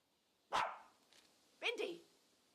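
Bindi the dog gives two sharp barks about a second apart, the second a doubled yelp, loud and close in a quiet indoor room.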